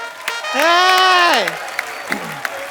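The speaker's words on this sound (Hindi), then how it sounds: "जोरदार तालियां।" A television comedy show audience applauds a celebrity guest; a loud sustained voiced cry, likely a cheer or whoop, rises over scattered claps before fading into a few isolated claps.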